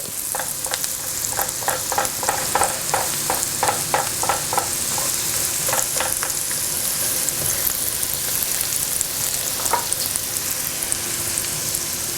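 Food sizzles steadily in a hot pan for loaded five-cheese nachos, with a run of quick scraping stirs partway through over a constant frying hiss.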